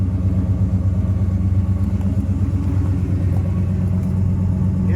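A classic Chevelle's engine idles steadily after starting in a garage, giving a continuous deep, loud rumble with an even throb that holds for the whole stretch.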